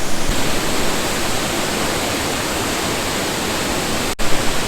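Canikdere waterfall in Tonya rushes with a loud, steady broadband roar, continuous throughout, with a brief dip near the end.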